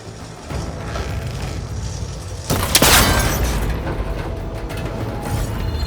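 In Horizon Forbidden West, an arrow strikes a cable connector with a sudden sharp crack and brief metallic shatter, rising out of steady ambient game noise and followed by a lingering rumble.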